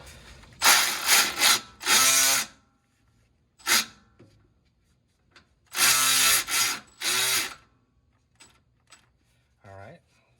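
A socket ratchet tightens the passenger-side bolt of a Bilstein steering stabilizer on a 2017-or-later Ford Powerstroke truck, giving loud close bursts of ratcheting clicks in several separate runs, with short pauses and light handling noises between them.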